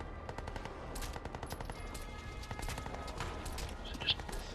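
Rapid automatic gunfire from a weapon in the video game Crysis 2, firing in steady bursts at moderate loudness with game effects and a brief sharp pop near the end.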